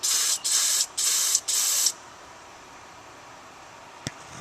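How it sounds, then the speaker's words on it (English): CRC Freeze Off Super Penetrant sprays onto bolts in four quick hissing bursts, followed by quiet and a single faint tick. "it's CRC Freeze Off Super Penetrant."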